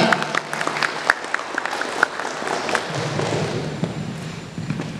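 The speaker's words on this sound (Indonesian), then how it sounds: "Tepuk tangan buat Dinasti." Students at a basic journalism training session at SMKN 7 Baleendah give a round of applause, scattered close claps with a few sharp louder hits over a softer background of clapping.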